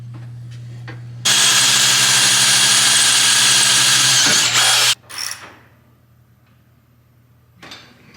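A tool whirs loudly for about four seconds on the suspension bolts of a 1986 Chevy K-10 pickup, ending abruptly, then a few brief clanks in near quiet under a steady low hum.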